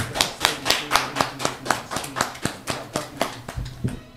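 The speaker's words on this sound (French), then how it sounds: "Hein, j'applaudis encore une fois." Hands clapping in a steady, even rhythm, about four claps per second, close and distinct, with no talking over them.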